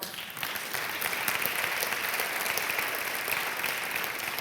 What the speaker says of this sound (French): Merci d'applaudir Amine Ben Salah.